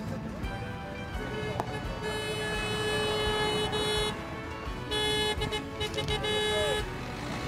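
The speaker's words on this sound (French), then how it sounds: "Voyez, ça klaxonne." Car horns toot repeatedly over steady street traffic noise at a roundabout during a Gilets Jaunes protest in La Rochelle, with voices murmuring in the background.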